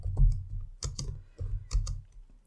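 Fingers tap a computer keyboard while entering a Power BI measure formula, a few close, distinct keystrokes in small uneven bursts with short pauses between them.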